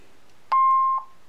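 A Honeywell Vista alarm panel gives a single clear, steady electronic beep of about half a second as its key switch is turned, following a soft click, with quiet room tone around it.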